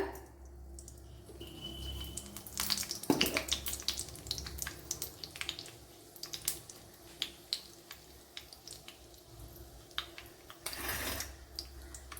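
Mustard seeds and fenugreek popping in hot ghee in a pan, giving a steady low sizzle with scattered sharp crackles and small pops throughout, close up, with no talking.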